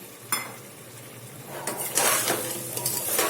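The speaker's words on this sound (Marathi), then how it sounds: "आता आपल्याला फक्त या तांदळाला व्यवस्थित भाजायचं आहे" Rice and vegetables being stirred and roasted together in a pan for masale bhat, with a spatula scraping and clinking against the metal through a soft sizzle, close and uneven in rhythm.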